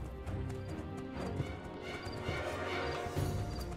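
A horse in the video game Two Worlds 2 with a steady clip-clop of hooves under a dense backdrop of game ambience, the hoofbeats moderate and continuous with no talk over them.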